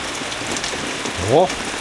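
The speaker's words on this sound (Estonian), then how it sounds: "Igatahes vihmaveetorust tuleb üle." Heavy rain pours down with a gutter downpipe overflowing, a dense steady hiss of water close by, briefly joined by a short voiced sound.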